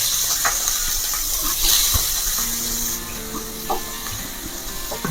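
Onion, cumin and green chili hit hot oil in a pan and sizzle with a loud, steady hiss, broken by scattered crackles and spits.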